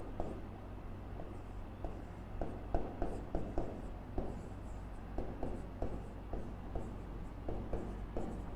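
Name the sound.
writing notes during a maths lesson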